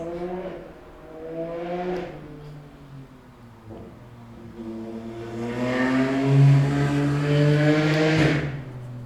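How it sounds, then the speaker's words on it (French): A motorcycle goes by with its engine droning and rising in pitch, then swelling louder before it fades, all heard alone without voices. "la moto, elle est passée"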